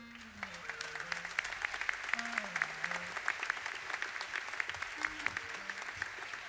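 An audience at a jazz festival concert claps steadily and warmly, with a few soft melodic tones sounding underneath the applause.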